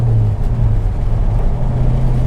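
A car engine on a race track hums at a steady, loud, low drone after a shift back to fourth gear, cruising without revving up or down.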